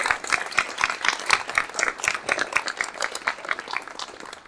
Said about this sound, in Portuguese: Eu queria um aplauso individual aqui